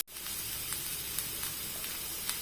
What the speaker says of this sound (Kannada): ಹಾಕಿ ಎಲ್ಲವನ್ನು ಕೂಡ ಚೆನ್ನಾಗಿ ಇದನ್ನು ಫ್ರೈ ಮಾಡುವ.